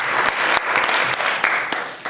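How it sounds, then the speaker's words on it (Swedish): Warm audience applause at a musical theatre performance for lighting technician Johan Danielsson, a dense, fairly loud patter of clapping hands with a few sharper claps punctuating it, continuous for the whole stretch. "jag gör ingen annan än varm applåd för Johan Danielsson"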